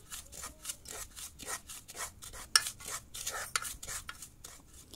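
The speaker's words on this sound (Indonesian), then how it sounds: "Nah, kita aduk-aduk terlebih dahulu sebelum dimasukkan air." Chocolate Pop Ice powder being stirred in a bowl before water goes in, a quick rhythmic scraping and rubbing of a spoon, repeated strokes close by with occasional clinks.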